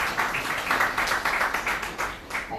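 Sustained applause from a conference audience in a large hall, steady dense clapping throughout with no breaks.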